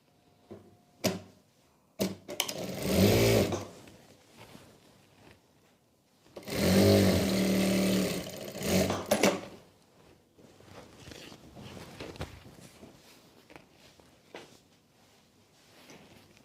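A sewing machine stitches a salwar in two separate runs of rapid mechanical whirring, each lasting two or three seconds, with quiet handling and rustling of fabric between them and no voices.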